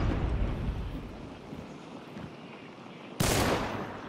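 A single loud, close shotgun blast in the game Hunt: Showdown bursts out near the end, following a stretch of low rumbling battle ambience with faint distant crackle.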